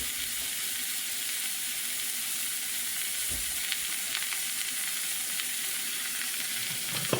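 Ground meat browns in a hot pan for Italian mostaccioli, giving a constant, even sizzle and hiss with a few soft stirring scrapes in between.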